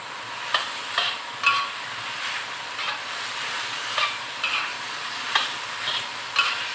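Chicken hotdog slices fry for spaghetti in a pan with a constant soft sizzle, while a utensil scrapes and stirs in regular strokes about every half second.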